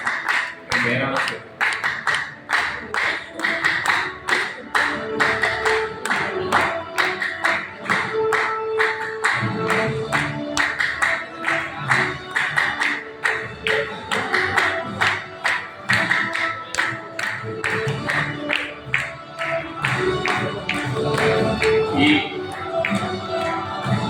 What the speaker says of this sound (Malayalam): മൂന്ന് ഹൃദയം നിറഞ്ഞ ഒരു കയ്യടി